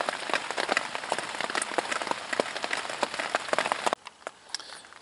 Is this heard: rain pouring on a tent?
yes